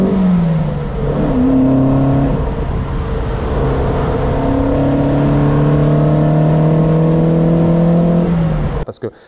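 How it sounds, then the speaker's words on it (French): An Alfa Romeo engine revs loudly and close, its pitch climbing smoothly through several gear changes before a sharp drop as it cuts off at the end. "le son alpha de ce moteur est vraiment,"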